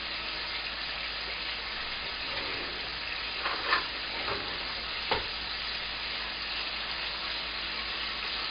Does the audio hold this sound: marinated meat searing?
yes